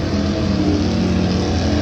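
A turbocharged Cobra drag race car engine drones loudly and steadily up close, a thick continuous rumble with no talking.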